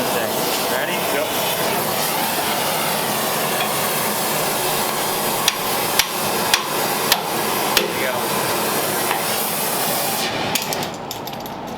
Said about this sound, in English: Flip it over and then hit it. Grab the hammer.